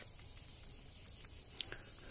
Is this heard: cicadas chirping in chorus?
yes